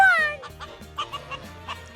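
A pet chicken, a young rooster, gives a few short clucking calls at close range, spaced irregularly over a couple of seconds, with a person's voice briefly calling to it.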